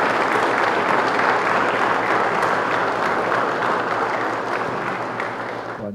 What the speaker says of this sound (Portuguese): Uma salva de palmas a esses jovens.